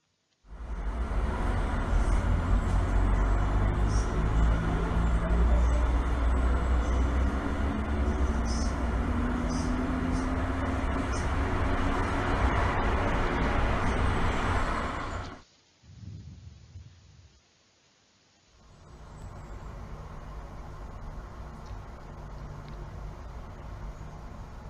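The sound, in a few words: recorded city traffic sounds in Santiago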